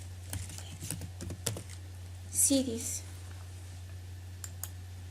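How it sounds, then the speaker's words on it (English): Scattered keyboard clicks tap out irregularly, a quick burst then a pause, with a brief louder rustle in the middle over a low steady hum. "Right here you could start typing whatever it is you want to know about cities"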